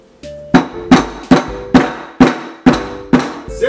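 Repeated hammer blows smashing a very tough, unusual fruit, seven loud sharp impacts in a steady rhythm about every half second, each ringing briefly before the next strike, close up with no talk.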